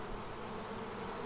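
A swarm of honey bees settling into a new hive gives off a faint, steady hum of many wings, a continuous low drone that stays even throughout without any talking.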